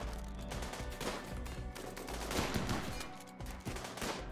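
Rapid bursts of gunfire in the video game RimWorld crackle and pop over a low rumbling backdrop, fairly quiet overall, with a dense sustained volley in the middle.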